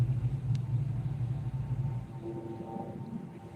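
A classic Ford Mustang rumbles close behind, a deep low engine drone that holds steady for about two seconds and then fades back under faint traffic and ambient noise.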